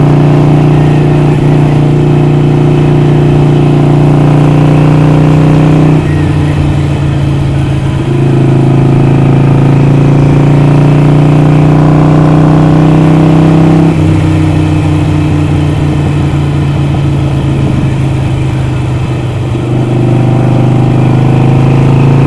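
A Harley-Davidson 883 motorcycle engine while riding on a summer day, a loud, close, continuous low rumble with pitch steps as gears change and the revs rise and settle.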